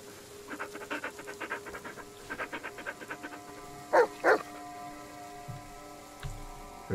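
A dog pants in rapid rhythmic bursts in the horror video game Blair Witch, close and steady, with two brief sharper yelps or whines midway over a faint patter of rain.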